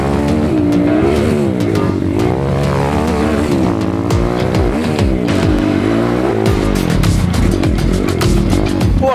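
A 150 cc motorcycle engine revs up and down through gear changes while riding a winding road, loud and close throughout with continuous wind noise.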